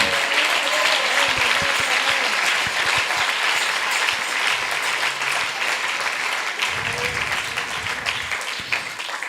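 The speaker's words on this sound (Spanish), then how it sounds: "Dele aplausos al Señor Jesucristo." A church congregation gives sustained applause to the Lord Jesus Christ during a sermon, a dense, steady wash of many clapping hands that stays loud throughout and eases slightly near the end.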